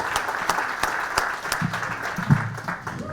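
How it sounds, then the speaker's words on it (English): A town hall crowd at the Dallas County Courthouse in Selma gives Senator Hank Sanders a round of applause, heard as a thin scattering of distinct, fairly sharp claps with a few low voices murmuring beneath. "Senator Hank Sanders, give him a round of applause"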